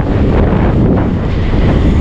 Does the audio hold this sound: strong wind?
yes